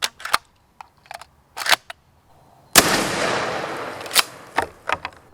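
A Benelli Supernova shotgun firing a Super X turkey load gives one loud, sharp blast with a lingering outdoor decay, preceded and followed by light mechanical clicks and clacks.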